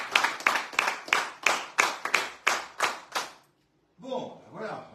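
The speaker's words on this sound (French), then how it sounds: "vos applaudissements, c'est pour les encourager" An audience claps in sharp, steady bursts for about three seconds, loud and close, then the applause stops and a voice begins speaking.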